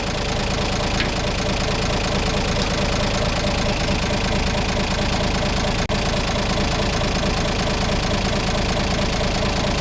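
A car engine idling slow and warm after a conversion from a 6 volt to a 12 volt electrical system, a steady close rumble with a faint knocking texture throughout and a single brief click partway through, no talking.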